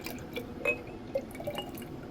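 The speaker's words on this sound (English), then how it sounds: "Pour this into the jungle juice jar." Pilk, Pepsi mixed with milk, is poured into a jar, a faint splashing trickle with a few small drips, heard close and quiet with no talk.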